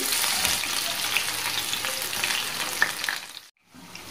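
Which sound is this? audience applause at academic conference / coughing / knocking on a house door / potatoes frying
potatoes frying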